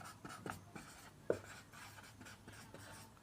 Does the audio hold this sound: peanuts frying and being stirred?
no